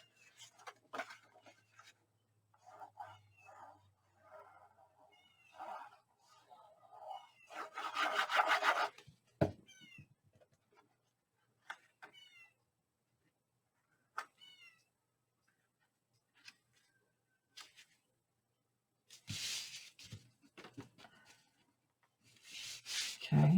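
Rubbing of a burnishing tool over paper on a Graphic 45 craft folio comes in two short, fairly close scraping bursts, separated by quieter small handling noises and faint chirp-like sounds.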